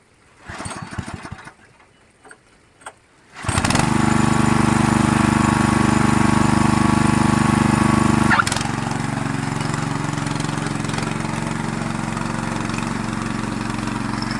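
A rice planting machine's small engine starts after a few knocks and then runs steadily in a paddy field, loud and close, dropping to a slightly lower idle partway through.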